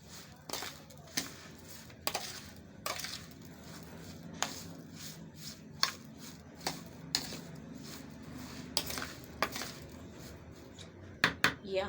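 A spoon clinks and scrapes steadily against a bowl while mayonnaise sauce ingredients and powdered sugar are stirred together, with sharp taps recurring every second or so, close by and with no voice over it.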